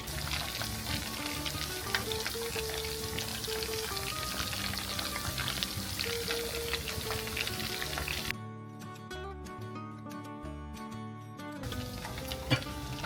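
Mac and cheese pakoras shallow frying in a little oil, a steady close crackling sizzle that runs throughout, dropping somewhat quieter partway through, with no talking.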